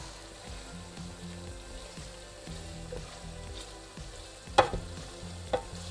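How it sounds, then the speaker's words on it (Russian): Lamb with beans and vegetables fries in a pan while a spatula stirs it, giving a steady sizzle broken by scraping strokes and a few sharp clacks against the pan, close up and without speech. "Сейчас лопаткой это все размешиваем дело."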